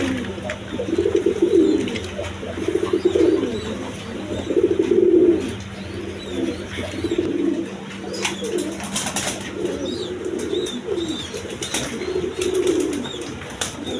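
Healthy pigeons kept for sale give repeated rolling coos in bursts every second or two, close and clear, with a flurry of flapping wings partway through.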